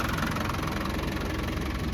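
A 1998 Land Rover Defender 110 with a low-mileage 300Tdi diesel engine idling, a steady close rumble with a fine rapid diesel clatter, even and unbroken, without speech.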